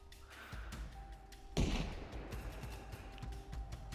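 Grenades bursting in a team-versus-team church battle in ARMA Reforger: one loud, heavy blast lands sharply mid-clip over a steady rumble of distant gunfire and thuds that carries on throughout.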